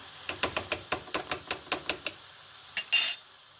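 A spoon stirring tomato paste into a mushroom chicken curry sauté in a pan, a quick run of about a dozen sharp metallic scrapes and clinks in an even rhythm, then a pause and a couple of louder knocks.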